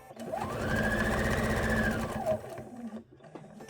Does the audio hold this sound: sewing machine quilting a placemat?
yes